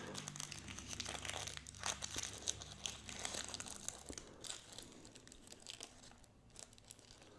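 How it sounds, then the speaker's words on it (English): Aluminum foil wrapped around miniature potatoes from a Make It Mini cafe kit crinkles and crackles up close in quick, uneven bursts, with a few small tearing sounds mixed in. "And I like that they're wrapped in aluminum foil."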